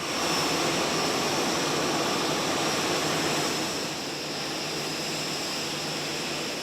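Steady, loud jet engine roar of an airplane taking off, a broad continuous rumble with a high whine on top, easing slightly after a few seconds.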